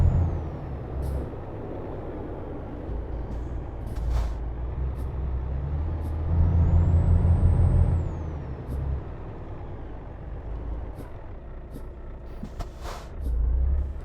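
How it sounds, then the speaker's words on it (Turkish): A truck's air brake releases with a loud sustained hiss over a low engine rumble, close and steady, in the video game Euro Truck Simulator 2. "fren yapınca e, böyle bir ses çıkıyor"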